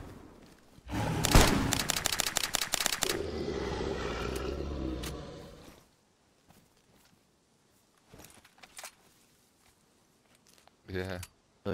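A burst of rapid gunfire in DayZ, a loud dense volley of shots lasting a few seconds, followed by a quieter stretch with scattered clicks and thumps and a short final crackle.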